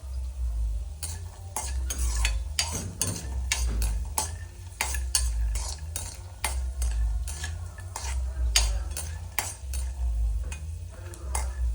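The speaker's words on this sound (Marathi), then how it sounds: "आता शेंगदाणे भाजले जात आहेत" Peanuts roasting dry in a pan while being stirred, a busy run of repeated scraping and rattling strokes of a spoon against metal over a faint sizzle and low hum, close and continuous with no talk.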